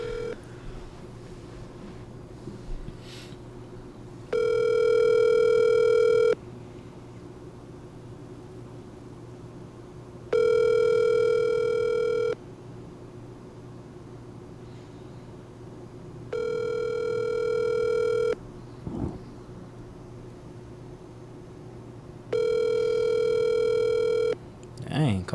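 A telephone call being placed, with a ringback tone sounding four times as steady two-second tones spaced evenly apart over a faint background hum.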